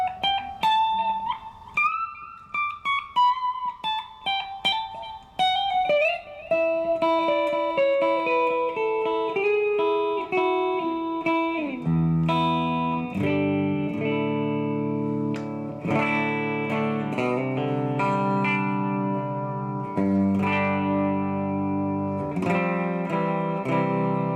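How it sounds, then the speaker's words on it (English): An Epiphone Les Paul electric guitar with a Bigsby, played through the neck pickup with effects, rings out in melodic single notes that shift into sustained, layered chords with heavy reverb and modulation, loud and close with no talking. "That neck pickup sounds really good too."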